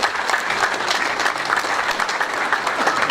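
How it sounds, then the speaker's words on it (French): Sustained audience applause at a memorial tribute ceremony in Tartas, steady dense clapping throughout with no pauses, moderately loud and filling the whole stretch. "Oui, il faut l'applaudir"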